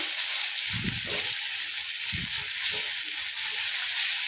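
Ginger garlic paste sizzles steadily in a pan with a constant bright hiss, and a few soft scraping thumps come from stirring. Nobody speaks.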